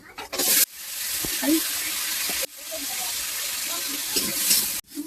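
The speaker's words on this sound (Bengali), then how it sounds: "হালকা মতো ভেজে দিলাম, হয়ে গেছে ভাজা" Potatoes and tomatoes fry lightly in a pan, giving a steady, fairly loud sizzling hiss that breaks off sharply twice and then resumes, with a few faint clinks in the background.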